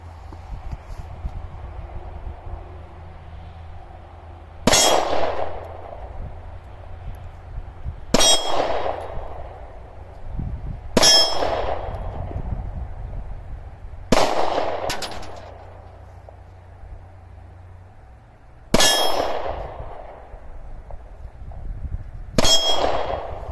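A Glock 43 pistol fired six times at slow, uneven intervals, each shot a loud, sharp crack with a ringing tail.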